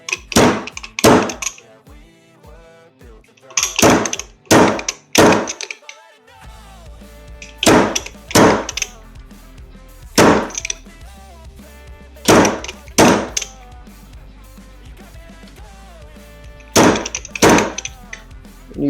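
Loud metallic hammer strikes in quick clusters of two to four blows, repeated several times with short pauses between, ringing sharply against metal parts, as a fork seal is driven down on a 39mm motorcycle fork.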